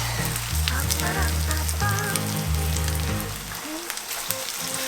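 Okonomiyaki pancake batter sizzles and fries on a hot plate, with a steady, loud crackle throughout and some musical background tones over it.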